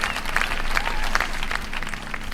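Crowd applause plays during a casual reaction stream about an extinct-animal zoo game. The clapping is continuous and moderately loud for the whole short stretch, with no voices over it.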